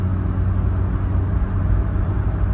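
A Renault Clio 1.2 drives along the road, its cabin filled with a steady low engine drone and road rumble, loud and continuous with no break.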